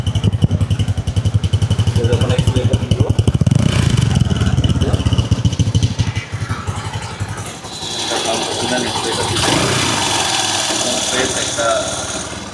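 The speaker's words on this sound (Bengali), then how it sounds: "ইঞ্জিনের সাউন্ডটা শুনেন একদম ফ্রেশ ইঞ্জিনের সাউন্ড আছে" Modified TVS 125cc motorcycle with a custom silencer idling close by, a steady throbbing engine note that eases off and settles into a lighter, hissier idle, with someone talking over it.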